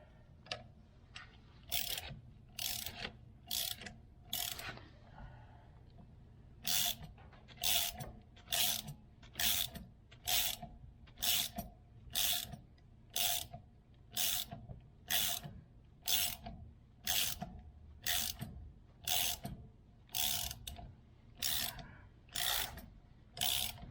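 A ratchet runs down a harmonic balancer installer on an LS engine: steady back-and-forth strokes, each a burst of sharp clicking, about twenty in a regular rhythm after a short pause, close and clear with no talk.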